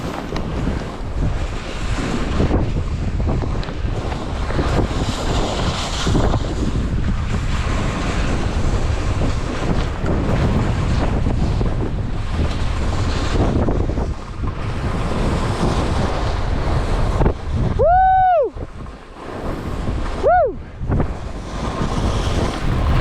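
Strong wind on Chapel Peak (Collesha) roars and buffets the microphone continuously, a loud low rush that briefly drops near the end as a couple of high tonal chirps sound.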